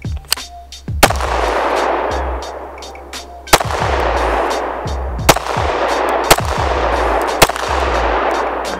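Repeated sharp, loud pistol shots from an Agency Arms Syndicate S2 Compact fired at a range, about seven reports spaced irregularly, each with a ringing echo decaying behind it.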